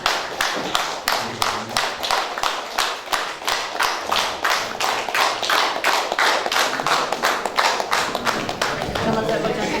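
An audience gives a standing ovation at a book presentation event, clapping in a loud, regular rhythm of sharp beats that keeps up throughout, with a voice faintly underneath.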